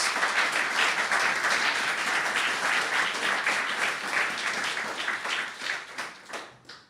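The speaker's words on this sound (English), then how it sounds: "Give them all a round of applause" Sustained applause from a symposium audience thanking a panel, a dense, even wash of many hands clapping that holds steady and then tapers off in the final seconds.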